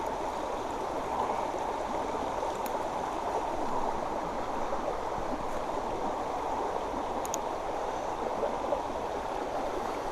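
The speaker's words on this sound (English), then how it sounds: "Nice little brook." A small brook in a national forest flows steadily with a continuous broadband rush and gurgle, close and even throughout, with a few faint clicks and no talking.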